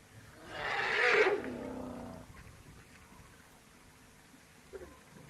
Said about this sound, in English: Very frightening sounds that come from these giant elephants, I must say.